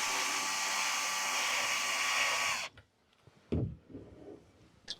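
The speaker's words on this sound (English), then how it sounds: "Now we're going to fix it using a 40mm wood screw and screw it in about 3/4 of the way." A power driver sinks a 40mm wood screw into a wall while a shelf is hung. A steady, close, whirring drive runs for about two and a half seconds, then cuts off, followed by a few soft knocks and handling sounds.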